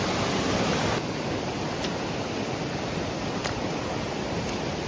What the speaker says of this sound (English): That's the water.